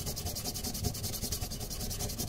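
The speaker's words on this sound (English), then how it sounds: "I'm going to sand this end as well." Sandpaper rubs the end of a small wooden piece for a DIY Fibonacci clock build in quick, even back-and-forth strokes, close and continuous with no talk.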